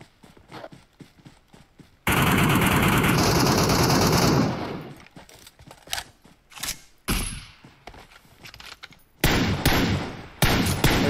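Gunfire in PUBG Mobile: a sustained two-second burst of rapid automatic fire, then scattered single shots, short bursts and thuds of varying loudness, some near and some farther off, with no talking.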